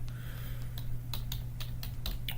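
Login credentials are typed on a computer keyboard, a quick irregular run of close, crisp key clicks over a steady low electrical hum.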